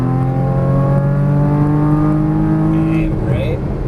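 A Porsche Cayman GTS engine pulls hard after a downshift, a loud close rising drone with a clear climbing pitch, then a brief shift and whir at the end. A voice speaks over it.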